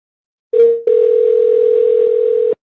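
A steady telephone dial tone hums alone for about two seconds after a brief first burst, placed while returning a call during a radio call-in program.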